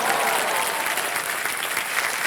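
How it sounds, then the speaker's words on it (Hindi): A studio audience at a televised quiz show breaks into steady, dense applause, a continuous wash of clapping that stays loud and even throughout. "एक बार जोरदार तालियां बज जाए"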